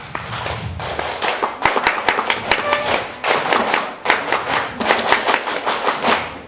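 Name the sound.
group doing the Pramuka scout clap, two claps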